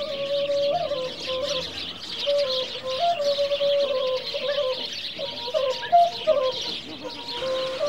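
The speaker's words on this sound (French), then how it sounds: "Rendre la liberté à des oiseaux est une autre façon de le mériter." Birds are being released at a temple in Chiang Mai, Thailand, and many of them chirp and call together in a steady, close chorus over a faint hum of background ambience.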